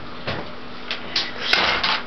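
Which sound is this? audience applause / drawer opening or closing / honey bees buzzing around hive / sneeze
drawer opening or closing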